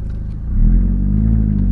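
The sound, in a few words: VW Golf GTI MKIV 1.8T straight-pipe exhaust revving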